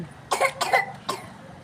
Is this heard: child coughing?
yes